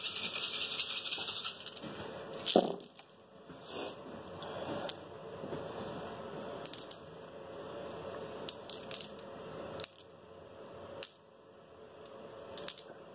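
A handful of dice rolled for a Tau versus Orks tabletop wargame clatter in several sharp bursts of clicks and rattles with quiet gaps between, close and fairly faint, with no talk.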